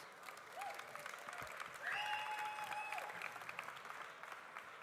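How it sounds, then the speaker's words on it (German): Audience applause for volunteers at a Swiss coffee festival during a latte art competition: a soft, distant patter of many hands that swells briefly mid-way, with faint tonal sounds above it. "darum einen tausend Applaus für alle Volunteers."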